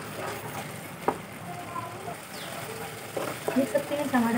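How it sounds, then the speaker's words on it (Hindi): Tomato puree cooks in hot oil for lauki kofta, giving a soft, continuous sizzle with occasional spoon stirs and scrapes close by, while someone talks over it. "टमाटर की चीज़ को हम तब तक पकाएंगे जब तक ये अच्छे से तेल ना छोड़ दे।"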